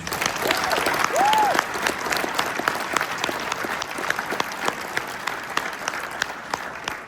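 An audience at a gala awards evening gives a round of applause, dense clapping that swells early then thins to scattered claps, with a brief voice rising near the start.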